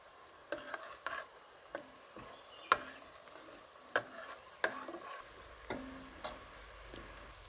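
Onion, garlic and ginger fry in a pan under a quiet, low sizzle, broken by a series of sharp scraping and tapping stirs at irregular intervals.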